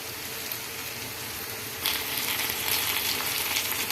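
Onions, a small tomato and masala frying in a pan, a dense hiss that jumps louder and brighter partway through and then holds steady, with no voices.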